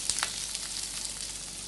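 Chopped onions and capsicum tossed in a hot pan for a chilli soya starter, sizzling and crackling steadily at close range with a few sharper pops near the start, no voices.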